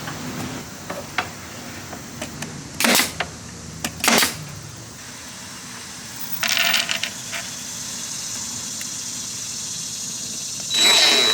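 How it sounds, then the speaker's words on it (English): A nail gun drives a couple of nails into a wooden piece to hold it in place, with several sharp, isolated pneumatic bangs spread among quieter handling sounds and background hiss. "just shoot a couple nails into this to hold it in place"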